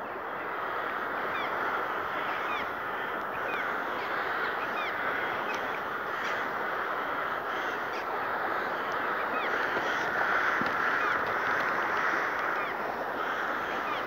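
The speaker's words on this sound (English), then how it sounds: "see all the birds, all the crows, hundreds of them" A dense, steady chorus of hundreds of crows cawing at once in the dark, continuous and fairly loud throughout, sounding somewhat distant.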